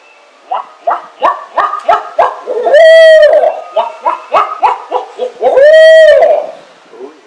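A person imitates owl hoots during a turkey hunt, sounding a rhythmic series of short, loud hoots followed by a long drawn-out wavering call, the whole pattern repeated twice, close and clear with no talk.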